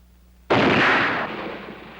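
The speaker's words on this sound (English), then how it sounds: "the explosion on the left demolished that apparatus" A magnesium perchlorate preparation explodes on a chemistry laboratory bench: one sudden, loud, close blast after near silence, followed by a rumbling decay and a lingering noisy tail.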